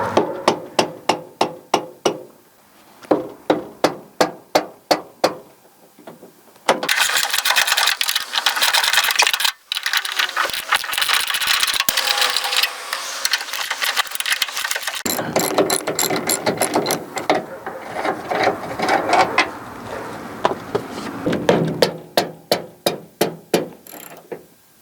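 Ratchet wrench clicking as bolts on a CUCV M1028 truck door are cracked loose, with rapid bursts of sharp metallic pawl clicks alternating with longer stretches of steady ratcheting.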